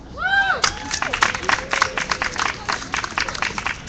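Audience at an Occupy Rutgers Newark teach-in applauding a speaker: a burst of clapping and scattered cheers, a whistle-like whoop at the start, fairly loud and then thinning into uneven claps.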